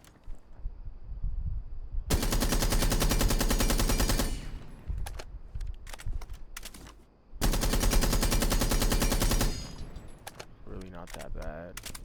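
Blackbeard's rifle fitted with a flash hider in Rainbow Six Siege: two long, loud sustained bursts of rapid automatic fire, separated by scattered single shots and quieter game noise.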